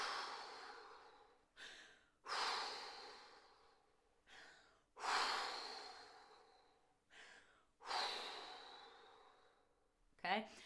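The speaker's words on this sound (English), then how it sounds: "So I want big, powerful breaths out." Deep breathing exercise from a singing warm-up: about five big, forceful breaths in and out follow one another at an even, slow pace, heard close and alone.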